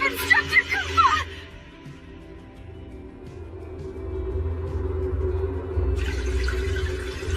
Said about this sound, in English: I can hear it. The sound of water.